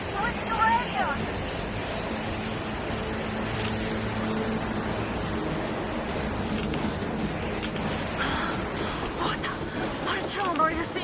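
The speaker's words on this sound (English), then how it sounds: "Now that's what I call a blizzard." Howling blizzard wind in the video game Metro Exodus roars steadily and loud for the whole stretch, a dense rushing noise with gusting swells and no clear voices.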